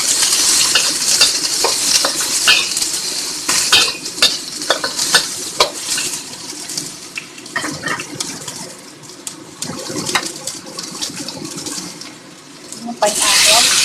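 Onions hit a hot pan for a sweet and sour pork sauce, giving a loud, steady sizzle with repeated stirring scrapes and utensil clinks throughout, broken only by a short dip near the end.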